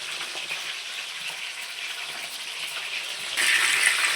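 Chicken pieces frying in hot oil in a pan for chilli chicken, a steady close sizzle that grows louder near the end as the pieces are turned over.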